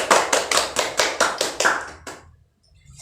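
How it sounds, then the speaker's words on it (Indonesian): Students in a classroom clap in unison, about ten sharp, evenly spaced claps close by that stop abruptly, leaving a brief silence. "Tepuk tangan dulu buat Mas Rizky."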